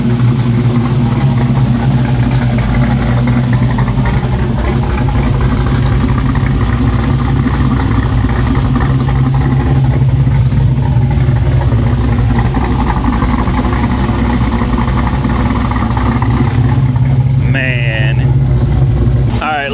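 A car engine runs steadily in a garage after a bent water pump was repaired, giving a loud, continuous low rumble at idle for the whole stretch, with a voice talking over it.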